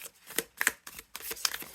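A new tarot-style card deck being shuffled by hand, several quick crisp riffling bursts in an uneven rhythm, close and fairly quiet, with no talk.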